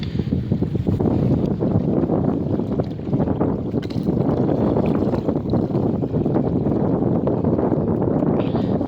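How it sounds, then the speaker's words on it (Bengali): Continuous rough wash of water and wind buffeting around a boat rocking on strong Ganges river waves, a dense, churning rumble without a break. "নৌকাটা নড়ছে, দেখো বহুত ঢেউ,"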